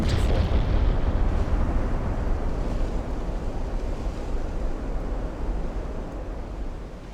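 Naval artillery salvos in the Ultimate Admiral: Dreadnoughts warship game, heard as a sustained, heavy low rumble of booming gunfire and explosions that starts loud and slowly fades.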